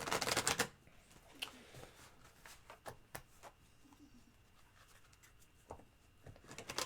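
Tarot cards are riffled and shuffled in quick papery bursts, a loud flurry at the start followed by softer scattered flicks and taps.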